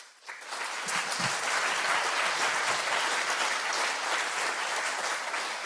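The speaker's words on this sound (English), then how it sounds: "That's a well-deserved applause." Audience applause after a talk at a medical meeting on cardiopulmonary resuscitation, rising quickly into steady, even clapping from a sizeable crowd that continues throughout without speech.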